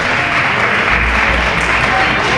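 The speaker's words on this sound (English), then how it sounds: "You hear the fans give him a round of applause as Kai Barker will shoot 2." Basketball fans in a high school gym applaud an injured player walking off the floor, a dense, loud crowd clapping with low rumble underneath.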